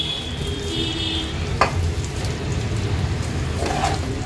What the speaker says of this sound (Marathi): हे जास्त तळायचे नाही, फक्त परतून घ्यायचे आहेत आपल्याला